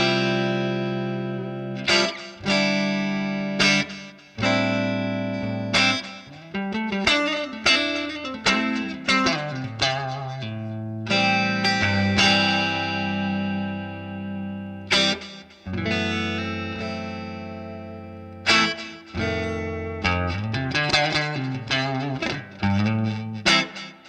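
Electric guitar through a Nordland ODR-C Custom Overdrive pedal into a Fender Twin amp, with Strymon Flint reverb, plays overdriven notes and chords in phrases with short pauses, sustained and ringing.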